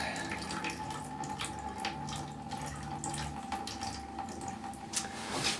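Faint running water trickles and splashes steadily from a cut old copper pipe, with small drips and gurgles throughout; no voices.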